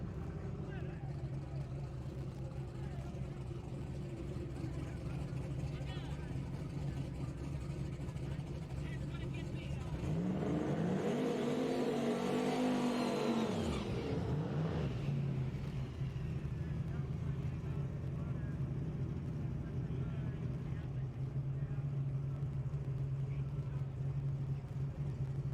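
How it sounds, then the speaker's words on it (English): Two drag racing cars, a box-bodied Mustang and a small Firebird, launch and race at a street outlaws event, a loud engine roar that swells for several seconds amid steady crowd and background noise, with commentary talk around it. "Box-bodied Mustang taking on the little Firebird over there in the far lane"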